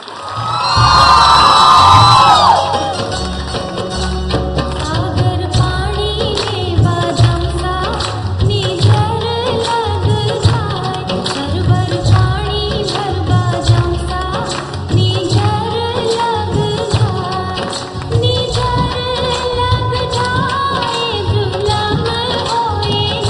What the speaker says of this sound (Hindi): तालियां जोरों से बजाइए आप